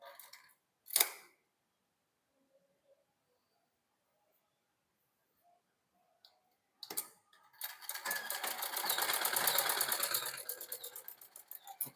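A sewing machine stitches a shirt collar in one steady, fast run of needle strokes near the end, after a short clack and mostly quiet handling.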